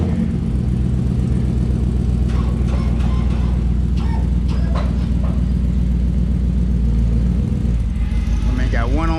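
A truck engine idles and rumbles close by as the truck is driven out of a garage, with a steady mid-range drone and people talking over it.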